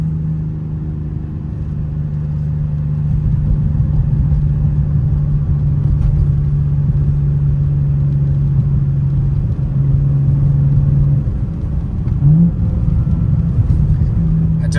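A 2024 BMW M2 engine idles and runs with a steady low rumble close by, a sustained droning tone underneath and a brief rise near the end, with no voices over it.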